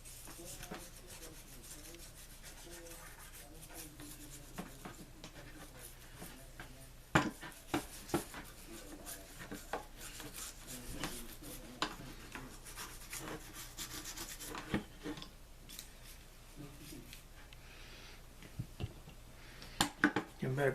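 Brush scrubbing an Abu Garcia Cardinal 556 spinning reel's spool and rotor after penetrating spray: quiet close rubbing and scratchy bristle strokes with occasional small clicks and knocks, faint and irregular.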